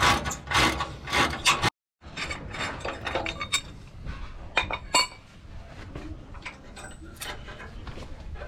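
Metallic ratcheting and clinking of a ratchet wrench working 14 mm bolts on a bumper bracket, loud and close, with busy mechanical bursts, a brief silent gap, then irregular clicks and clanks continuing.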